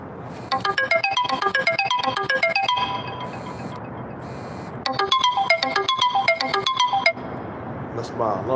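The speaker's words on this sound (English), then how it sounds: "That's my alarm." A phone alarm ringtone plays a bright, repeating melodic pattern twice, with a pause between the bursts. It is loud and close over faint background talk.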